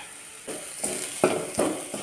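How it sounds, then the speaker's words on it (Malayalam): Onions and chilies frying in a pan for a horse gram thoran, a faint continuous sizzle with several distinct stirring scrapes and clinks, close by, no one talking. "ഉള്ളി മുളക് നന്നായിട്ട് മൂപ്പിച്ചെടുക്കണം കേട്ടോ"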